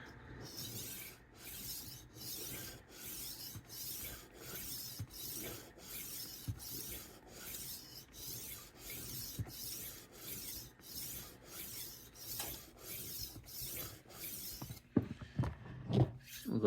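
A new rolling knife sharpener works a blade in a steady series of rasping passes, about a dozen even strokes close by, with a handful of sharper scrapes and clicks toward the end.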